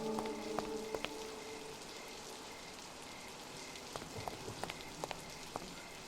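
Steady hiss of rain falling on a surface, with scattered sharper drips and taps near the end; no voices.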